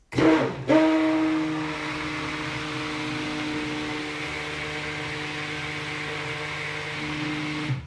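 Stick blender buzzing through a chocolate soap mixture: a short burst, a brief pause, then a steady continuous electric whir that holds evenly for several seconds before stopping.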